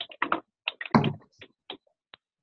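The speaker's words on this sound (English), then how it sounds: "Whoever's typing, you want to hit the mute button for me." Typing on a computer keyboard during an online sales meeting: close, sharp key clicks in short irregular bursts separated by brief silences.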